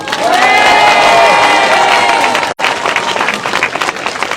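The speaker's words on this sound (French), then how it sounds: "À 3, un petit test d'applaudissement." Loud crowd applause and cheering at a boat christening, clapping swelling for a couple of seconds, cutting out briefly, then resuming a little thinner with scattered shouts.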